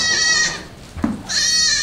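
Two loud, close goat bleats, long quavering cries separated by a brief pause with a soft thump between them.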